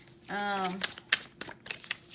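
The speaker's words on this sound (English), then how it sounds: "to keep it together here as I shuffle" Tarot cards are shuffled close up in quick, irregular riffling snaps and flutters, while a voice speaks briefly at the start.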